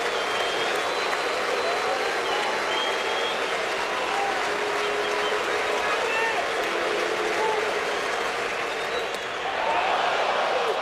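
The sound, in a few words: baseball stadium crowd cheering at Yankees vs Indians 2007 ALDS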